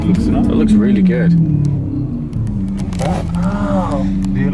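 A car's exhaust gives a deep, steady rumble at close range, running continuously beneath several people talking inside the vehicle.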